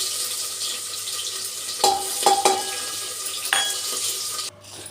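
Chopped onion and cumin sizzle steadily in hot oil, a soft continuous hiss broken by a few sharp clinks of a spoon against the pan.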